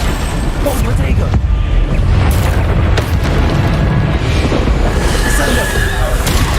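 The Bombarda explosion spell in the Hogwarts Legacy video game sets off dense, continuous booming blasts and crashing bursts, loud and close, layered with a steady rumbling low end and sharp impacts throughout.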